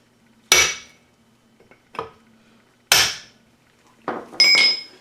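A chisel is struck to punch parts out of a Thunderbolt A2-4M blower, giving five sharp metallic knocks at uneven intervals, close and loud, with quiet gaps between.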